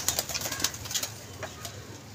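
Pigeon flapping its wings in flight, a few quick soft wing bursts near the start, then fainter flutters over a low hum of outdoor background.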